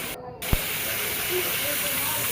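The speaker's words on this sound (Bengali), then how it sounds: "রসুনগুলো দিয়েও অনেকক্ষণ ভেজে নিতে হবে" Garlic cloves frying in a pan for a chicken dish: a steady, close hiss of hot oil, fairly loud and continuous, with one sharp clink near the start.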